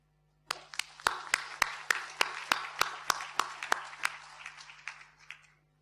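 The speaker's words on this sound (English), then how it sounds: "I would like to give them a warm applause for their effort and dedication." Applause at an opening session: a few people clap in a steady, fairly distinct rhythm, each clap sharp and separate, lasting about five seconds before fading out.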